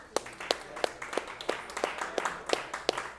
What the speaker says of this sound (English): let's give a round of applause to Lead Gen Jay for bringing all the Claude